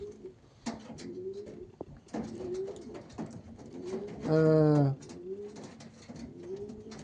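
Ringed racing pigeons coo repeatedly close by in soft rolling calls, with one louder, drawn-out coo midway and a brief murmur of a voice.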